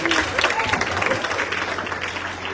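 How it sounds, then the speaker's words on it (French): Audience applause at a school centenary celebration in La Vallée, a short burst of clapping that fades slightly, with some voices and crowd murmur mixed underneath. "vous réapplaudissez, s'il vous plaît"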